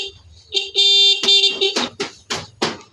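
A buzzy electric horn sounds up close: one long blast, then several short, sharp honks in quick succession.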